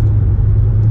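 A car engine held at high revs while driving behind a Ford before overtaking, on a car fitted with Brembo brakes, giving a loud, steady low droning rumble with no talk.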